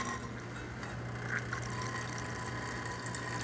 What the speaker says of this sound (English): Now we get some hot water.